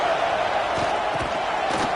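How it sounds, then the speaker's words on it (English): Steady roar of a stadium crowd in a college football video game, a dense continuous wash of cheering and noise sustained at even loudness throughout, with no clear speech on top. "this crowd trying to help keep them there"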